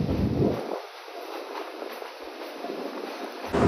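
A local DEMU train pulls out of Damdim station among the tea gardens on the Lataguri to Siliguri line, heard from on board as a steady, low rolling rumble with some wind noise. No one speaks.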